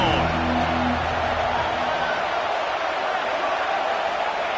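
Broadband roar of a college football stadium crowd before a drive at the 25-yard line, a steady, loud wash of cheering that stays constant throughout, with a game commentator talking over it.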